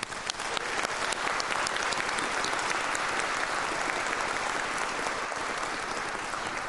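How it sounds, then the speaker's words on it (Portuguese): Steady audience applause rolls through the Legislative Assembly of Espírito Santo during a solemn session of honors, an even, moderately distant clapping crowd sustained without pause. "O nosso aplauso é para todos vocês."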